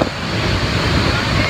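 Heavy water from Bhivpuri waterfall in Karjat rushes steadily during the monsoon, a loud, dense roar that fills the scene.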